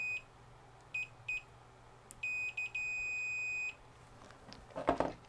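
Continuity-test beeps from a multimeter checking a cheap soldered fuse on an old time-delay circuit board: several short beeps, then one long steady tone lasting over a second, clear and close in a quiet room.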